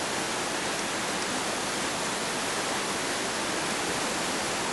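The Bhagirathi and Alaknanda rivers flow together at the Devprayag confluence. Their water makes a steady, dense roar that stays even and unbroken throughout, with no voices.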